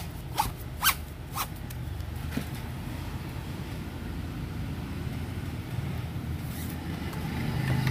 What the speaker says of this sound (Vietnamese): Ta lấy băng keo ra.